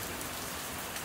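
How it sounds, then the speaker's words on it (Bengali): Heavy monsoon downpour outside drums steadily as a dense, even hiss of rain on surfaces, brief and constant with no talk. "দেখো বাইরে মুষলধারায় বৃষ্টি পড়ছে"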